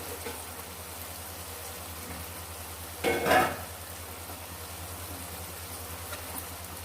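A short scraping stir goes through hyacinth beans cooking in a pan after salt is added, a single brief stroke over a steady low kitchen hum with no talk.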